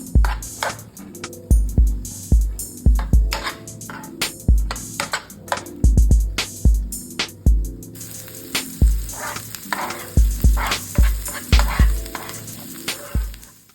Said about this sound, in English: we're going to go ahead and add in that chopped onion. All right, and allow that to saute.